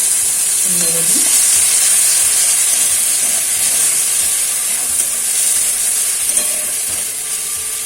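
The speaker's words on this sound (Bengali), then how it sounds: "প্রথমেই দিলাম রসুন বাটা, তেলেতেই দিয়ে দিলাম, তেল আছে।" Garlic paste frying in hot oil for a Bengali tangra fish curry gives a loud, steady hissing sizzle close by, with occasional stirring scrapes and no speech.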